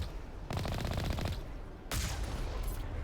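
Two bursts of rapid video-game gunfire, the first a rattling volley of about a second, then a pause and a second sharp burst trailing into echo, loud and with no voices.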